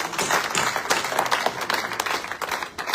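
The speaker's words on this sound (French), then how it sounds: "Applaudis fort pour le Seigneur." A church congregation breaks into loud applause, a dense burst of many hands clapping at once that holds steady for a few seconds. No one speaks over it.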